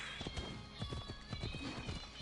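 Horse hooves clip-clopping at a gallop in Assassin's Creed Odyssey, a steady repeating beat of thuds under constant game ambience and music.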